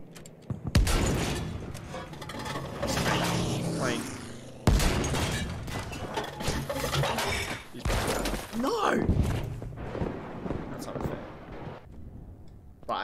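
Gunfire in Battlefield V multiplayer, with bursts of shots, booms and impacts crackling loudly and repeatedly through the whole stretch, while players talk over much of it.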